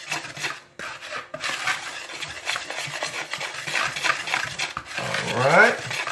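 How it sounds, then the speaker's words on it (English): Wire whisk scraping and clattering through pan bati batter in a bowl, a steady rasping stir that runs throughout at close range, with a brief lull early and a louder metallic swirl near the end. "Get a whisk here and just incorporate it all together"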